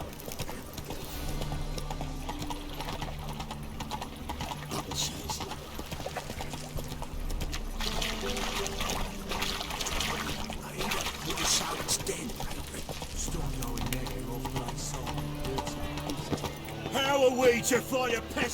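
Horse hooves clip-clop steadily at a walking pace in The Witcher 3, with voices and music in the game running underneath throughout.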